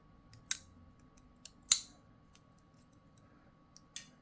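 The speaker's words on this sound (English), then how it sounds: "partial click, secondary click, and boom. Clicks all around." CJRB Agave folding knife locking into place with a few sharp, close clicks spread over several seconds, two of them louder, against quiet background.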